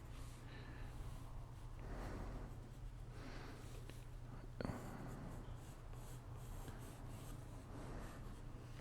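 Pencil sketching on good quality drawing paper, faint scratchy strokes in bursts over a low background hum, with one brief sharper tap midway; no speech.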